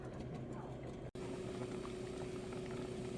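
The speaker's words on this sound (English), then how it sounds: "Meantime, in between time, I'm boiling corn." Corn boiling in a pot on a kitchen stove, a faint, steady bubbling hiss with a low hum under it and one brief dropout partway through.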